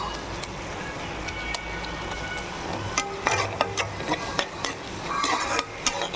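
Bottle gourd gravy being mashed and stirred in oil, a low background sizzle punctuated by irregular clinks and scrapes of a spoon against the pan, growing busier toward the end.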